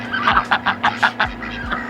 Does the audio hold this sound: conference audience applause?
no